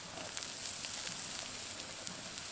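Chopped capsicum goes into a pan of lightly browned onions frying, giving a soft, continuous sizzle and crackle at close range with no voices over it.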